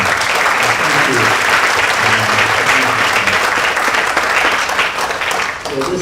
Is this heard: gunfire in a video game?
no